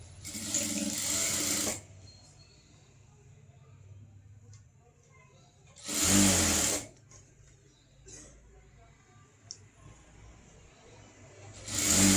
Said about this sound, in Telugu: ఇలా ఫోల్డ్ చేసుకొని పైనంగా ఒక కుట్టు వేసుకోవాలి